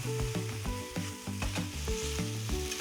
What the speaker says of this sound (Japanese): ここにまずパスタ入れると同時にバターで、パスタに一回バターの香りつけます。